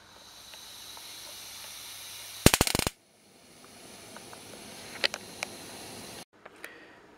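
A homemade high-voltage spark generator igniter crackles in a sharp burst of rapid snapping sparks, followed by a few fainter isolated clicks against a quiet hiss.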